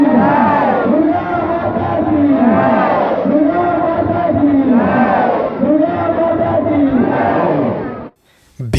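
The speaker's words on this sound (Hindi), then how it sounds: "लाख भक्तक भीड़।" A huge crowd of devotees roars and chants at a goddess's farewell immersion procession, a dense wall of many voices swelling in repeated waves, loud and close, before dropping off abruptly near the end.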